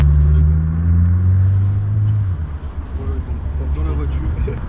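Volkswagen Golf 7.5 engine idling inside the car, a steady low rumbling hum that holds loud and even for a few seconds before easing slightly, with faint talk over it.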